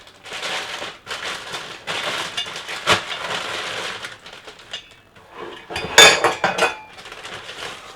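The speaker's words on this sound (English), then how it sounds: "And there's the lid that goes on top of the pressure cooker as well." Close clatter and clinks of handling a new stovetop pressure cooker lid, with metal knocks, scraping and rustling packaging in irregular bursts, one sharp ringing clink standing out.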